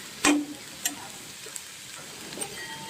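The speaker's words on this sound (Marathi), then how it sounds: "कढईमध्ये कांदा मिरची घातली" Onion and chilli frying in a kadhai for a potato bhaji, a soft steady sizzle broken by a few sharp ticks and clinks, with no voices.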